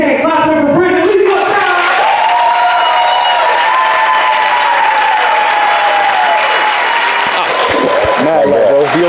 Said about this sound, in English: Let's show this man as much love as we can. Clap it for Brandon. Leake.